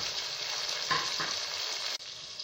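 Chopped tomatoes and onions fry in a hot pan with a steady, close sizzle and a couple of stirring scrapes, ending in a sudden drop.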